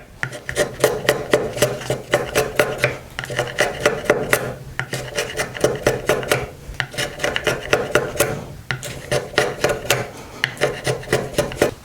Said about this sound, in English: Cut a little bit of oak as well.